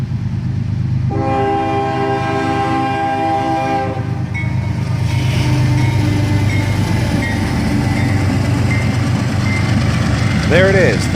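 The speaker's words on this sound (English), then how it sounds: "CSX Spirit of Western Maryland leads this train." CSX Spirit of Western Maryland heritage locomotive leading a train with a GP40 trailing, a loud rumbling engine, a long chorded horn blast early on, then steady rolling wheel noise with a voice speaking over it.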